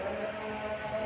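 A steady rumble with a droning hum comes from the Airlangga train passing at night through Gubug station in Grobogan, heard alone without any talk.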